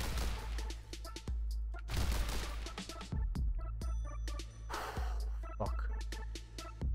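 Pistol gunfire in The Hong Kong Massacre video game, several sharp shots with slow-motion bullet-time effects over rumbling game sound, plus a few breathy gasps.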